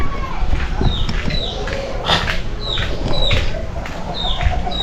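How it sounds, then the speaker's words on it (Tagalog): A chicken clucks and squawks repeatedly close by inside a bedroom, short sharp calls scattered through a busy indoor background with some voices. "Manok kasama sa kwarto."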